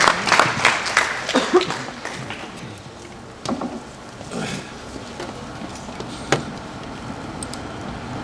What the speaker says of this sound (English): Please join me in applauding Mr. Saxena.